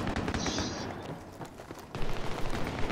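Gunfire in the Battlefield 3 video game: dense, rumbling bursts of shots and blasts, steady then heavier toward the end, with no talking.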